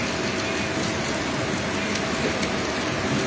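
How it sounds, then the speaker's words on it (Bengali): Heavy rain pours down in a thunderstorm, a dense, steady roar of downpour that stays loud and unbroken throughout, with no voices and no distinct thunderclap. "আকাশে আর মেঘ সাজানো নেই, এখন পড়ে যাচ্ছে সব বৃষ্টি হয়ে।"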